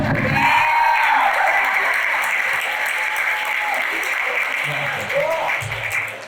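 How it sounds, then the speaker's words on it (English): An audience at an interview event with an Olympic baseball player breaks into steady, full applause lasting several seconds, with voices talking over the clapping. "Can I get a round of applause for that?"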